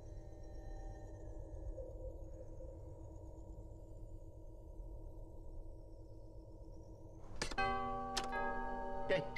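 Lego Star Wars: The Skywalker Saga video game doorbell: a bright, ringing two-tone chime strikes near the end, loud and resonant, following a quiet droning hum from the game's ambience.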